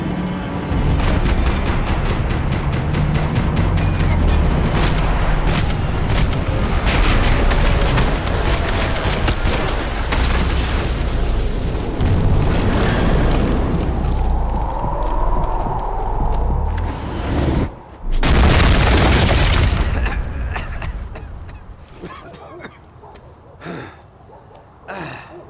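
Gunfire and explosions in the video game Max Payne 3: dense, loud, sustained bursts of shots and blasts filling most of the stretch, with a brief drop and then another loud burst before the action thins into scattered shots.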